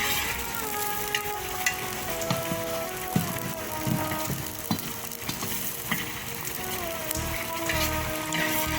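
Onions for Tajik plov sizzle and crackle steadily in a hot pan, with occasional sharp clinks and scrapes of stirring over the constant frying hiss.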